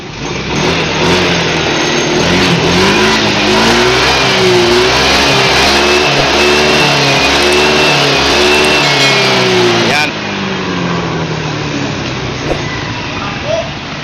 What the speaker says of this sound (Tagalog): So papaanda rin lang natin, papaanda rin hanggang sa ubusin niya yung nilagay natin na oil